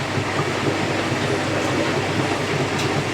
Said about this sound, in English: Final spin, 600 RPM.